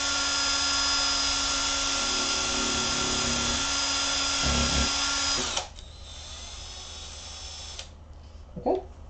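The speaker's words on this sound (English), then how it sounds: "So just grab the drill again." A power drill runs steadily and loud for about five seconds, then cuts off, leaving a quieter whir that stops near the end, followed by a brief clatter.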